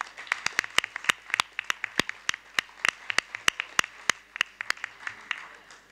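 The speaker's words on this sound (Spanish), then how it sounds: "se merecen un gran, un gran aplauso" A small audience at a parliamentary session claps for the speakers, a sparse scattering of distinct hand claps at an uneven pace, moderately close with little else beneath.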